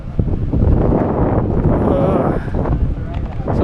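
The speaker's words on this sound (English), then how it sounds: "now we got really crappy rainy conditions with a lot of cloud cover. Probably a lot of wind." Wind buffeting a boat at sea off the Bahamas on a rainy, overcast day, a steady loud roar of gusts against the microphone with rumbling low noise throughout.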